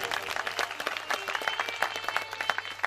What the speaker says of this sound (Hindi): मेरा मन है कि एक बार जोरदार ताली बजाएं गांव वासियों के लिए।